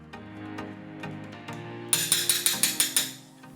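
A sledgehammer strikes a steel crowbar wedged into a wooden pallet, giving a series of nearby metallic clanks that speed up into a quick run of bright, ringing hits.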